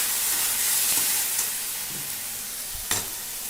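Moong and masoor dal stirred in a hot pan crackle and sizzle steadily, with a few sharp scraping knocks of the spoon against the pan near the end.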